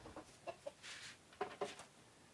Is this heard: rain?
no